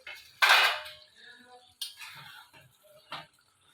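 A metal pot lid lifted and set down while curd chicken cooks: three separate clanks, the first the loudest, each ringing briefly in a quiet kitchen.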